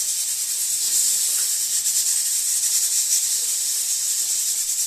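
Fish for a local fish stew fries in hot oil, giving a steady, close sizzling hiss that holds at an even level throughout with no voices.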